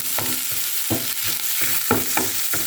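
Food frying in a pan toward golden brown, with a steady sizzle under a series of regular scraping stirs, about ten strokes in quick rhythm, close and moderately loud; no talking.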